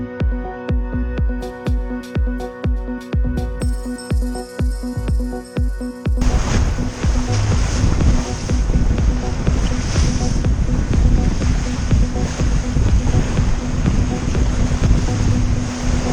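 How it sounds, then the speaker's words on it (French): Sailboat Antarctique cruising at 8 to 10 knots in open ocean after leaving Tasmania, with a steady broadband rush of waves and wind noise throughout, preceded by several sharp rhythmic knocks in the opening seconds. "Voilà Antarctique filant à sa vitesse de croisière, entre 8 et 10 nœuds."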